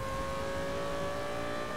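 An Audi R8 GT Spyder engine in the racing game Need for Speed Most Wanted, a steady loud drone with sustained tonal whine under heavy revs, continuous throughout with no talking.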